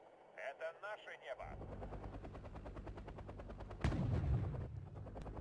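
Rapid automatic gunfire bursts in the strategy video game Wargame Red Dragon bring down a helicopter, with rotor chop and a heavier boom midway, a steady mix of battle noise with a voice talking over it.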